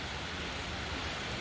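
Steady morning rain in Uganda, a dense continuous hiss of drops falling on surfaces, close and even throughout with no voices.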